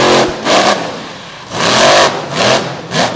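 The Lethal Threat Chevrolet monster truck's engine roars in loud repeated revving bursts during a freestyle run at Mayhem in the Mountains in Bloomsburg, PA, rising and falling between throttle blips.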